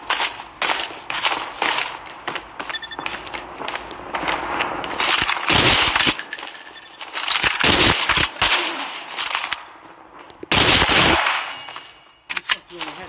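Rapid gunfire in Call of Duty Mobile comes as loud, dense bursts of automatic shots and single cracks, nearly continuous with brief gaps.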